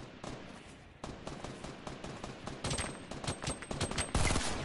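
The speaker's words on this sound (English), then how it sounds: "I hear shots." Rapid bursts of gunfire crackle through a video game battle royale firefight, shots stacking into dense volleys that grow louder and closer toward the end, with no talk over them.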